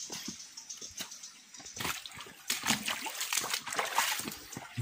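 Shallow water of a small forest stream trickles and splashes in uneven bursts, close by, with faint rustling around it and no clear talking.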